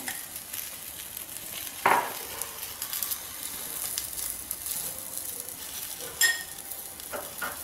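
Egg fries inside bell pepper (capsicum) rings on a low flame, making a steady, even sizzle throughout, broken by a couple of brief utensil clinks and no voices.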